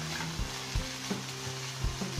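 Masala for spring onions with red chili sizzles steadily in a pan while a spoon stirs it, scraping in repeated strokes about every half second, close and without talk.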